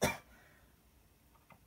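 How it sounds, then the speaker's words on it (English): One close, abrupt cough bursts out at the start, followed by near silence with faint rustling. "I apologise for that cough"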